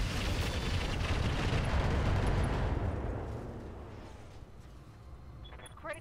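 Mech weapons fire in the Roguetech game, a dense loud barrage of booming blasts that rumbles and then fades out over several seconds.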